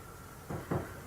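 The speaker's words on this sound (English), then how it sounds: "You open this door." A door inside a house is opened, giving two short, muted knocks or creaks about a quarter second apart against a quiet room hush.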